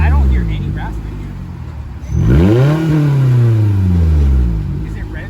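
Scion tC with a newly fitted exhaust revs up, its deep engine note climbing and then falling in one long sweep, loud and close, with people talking over the start.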